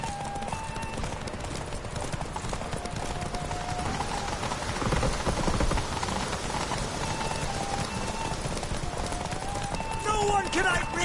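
Roach, a horse in The Witcher 3, gallops with steady clip-clop hoofbeats throughout, under rain-like ambient noise and game music, with brief voices near the end.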